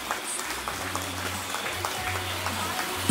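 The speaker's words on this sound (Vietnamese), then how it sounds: "Vỗ tay thật lớn, thật nồng nhiệt từ phía quý vị để chúc mừng hạnh phúc đi nào." Wedding guests applaud at a Vietnamese wedding ceremony: a steady, moderately distant wash of clapping that continues throughout, with a low music hum underneath.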